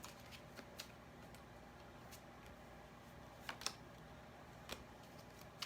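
Tarot cards being shuffled and drawn for a reading: soft, sparse clicks and flicks of cards, quiet and close, with a few sharper snaps toward the end.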